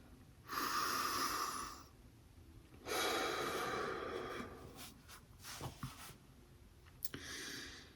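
Slow, deep breaths rush out in long airy exhales during a mindful breathing exercise, two sustained breaths followed by softer shuffling and a shorter final exhale, close and alone.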